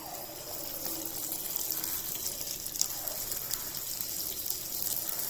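Small spoonfuls of punugulu batter dropped into hot oil and frying, giving a steady, close, even sizzle and hiss with no talk over it.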